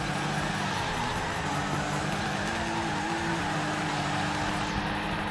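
A BMW E46 drift car in the video game Torque Drift drones steadily, its engine tone holding loud and constant with slight pitch shifts, played back through a phone.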